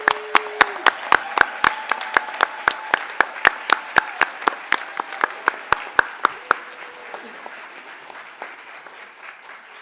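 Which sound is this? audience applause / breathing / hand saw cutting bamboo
audience applause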